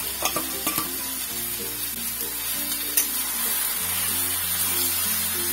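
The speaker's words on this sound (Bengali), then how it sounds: "ভালো করে একটু নাড়াচাড়া দিয়ে কচুশাকের সঙ্গে নারকেলটা আমি মিশিয়ে নেবো।" Taro leaves (kochu shak) being stirred in a pan with fried coconut for a Bengali vegetarian dish, a steady low sizzle with a few sharp utensil scrapes and clicks near the start and midway, with steady background tones underneath.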